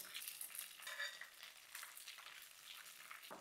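Manchurian balls shallow-fry in hot oil, giving a steady, quiet sizzle and crackle with soft bubbling throughout and no talking.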